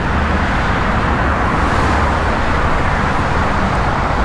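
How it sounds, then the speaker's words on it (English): Dense morning commuter traffic streams across the 6th Street Viaduct in Los Angeles, a steady, loud roadway roar with no breaks throughout. "So what you see behind me here is commuter traffic."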